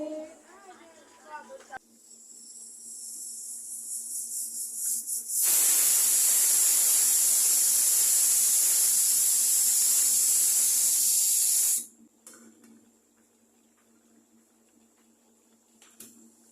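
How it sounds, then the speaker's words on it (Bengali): A kitchen pressure cooker vents steam in a loud, sustained whistling hiss lasting several seconds, with quieter hissing before it builds and faint sounds after it cuts off. "প্রেশারের মধ্যে দিয়ে আমি দু একটা শীষ দিয়ে দেবো"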